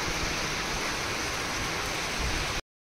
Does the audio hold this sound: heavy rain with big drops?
yes